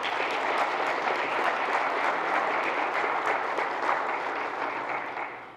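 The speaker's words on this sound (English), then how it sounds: "Can we give them a round of applause?" Sustained applause from a church audience at a community awards event, a dense, steady wash of many hands clapping for several seconds before easing slightly at the end.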